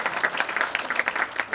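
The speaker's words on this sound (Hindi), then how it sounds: "उसके लिए अब तालियां हो जाएंगी?" A party audience celebrating 25 years of the film Sarfarosh breaks into lively applause, sharp individual claps clearly audible in an uneven, moderately loud patter.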